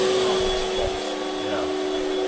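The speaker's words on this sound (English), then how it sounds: "Yeah, we can check the vacuum cleaner. Check the Hoover then." A Hoover vacuum cleaner runs steadily with a constant droning whine and airy roar, close and loud, with no breaks across the stretch.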